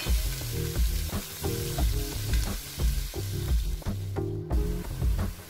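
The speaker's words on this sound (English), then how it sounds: "I'm going to add my chopped onion and I'm going to fry it for about 1 minute" Ginger, garlic and chopped onion frying in a pot, giving a loud, steady sizzle broken by repeated rhythmic scraping of a spoon against the pot.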